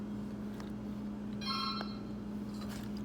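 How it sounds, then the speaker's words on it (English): A telephone rings faintly in a home kitchen while pastitsio is being assembled. A short burst of electronic trilling sits over a steady low appliance hum. "And when you know it, the phone's ringing,"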